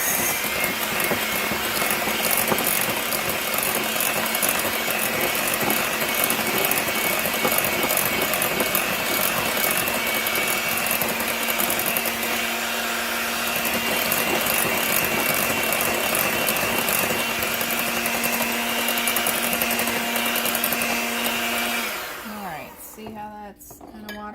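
Electric mixer beating keto pound cake batter after the last egg goes in, a loud, steady whirring drone close by that runs continuously for about twenty seconds before winding down, followed by a few clinks of the bowl.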